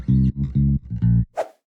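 Sidechained electronic bass line in an electro swing J-POP track, deep pumping notes in a choppy rhythm ducking between hits, loud and close, ending with a brief bright snare-like hit.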